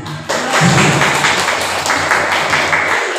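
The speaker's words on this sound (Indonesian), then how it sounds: "Tepuk tangan dulu." Audience clapping in a classroom or training session for prospective teachers, a burst of many hands starting abruptly and continuing steadily at close range.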